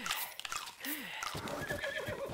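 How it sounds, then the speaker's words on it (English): A horse in The Legend of Zelda neighs with a rising and falling whinny, and hooves clip-clop under a busy game soundscape. The sound is fairly quiet and there is no talk. "That horse is vicious."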